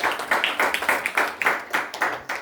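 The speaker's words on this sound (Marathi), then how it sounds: "सर्वांनी टाळ्या वाजवून त्यांचा सत्कार करावा." A small gathering claps in unison at a felicitation ceremony, about a dozen distinct, rhythmic group claps at a steady pace, fairly close, with no talk over them.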